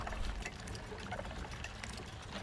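Water refilling in the survival video game Icarus: a short, quiet burst of pouring, trickling liquid, faint and alone for a couple of seconds.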